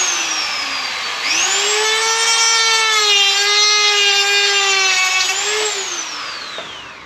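A power tool cuts a small nick into a plastic headlight housing during an HID to LED conversion, whining loud and steady for about five seconds with a rising then falling pitch as it spins up and winds down.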